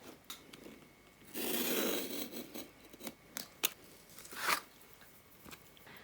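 Scoring and cutting thin card for a miniature dollhouse potion cabinet: a sustained scraping stroke followed by several short, crisp snips and clicks, close and quiet, with no talking.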